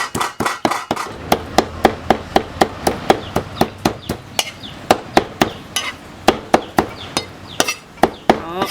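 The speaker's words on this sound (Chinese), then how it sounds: "剁碎。" Meat being chopped into mince with a cleaver on a board, a long, fast, even series of sharp thuds, more than twenty strikes, close and loud, with no talk.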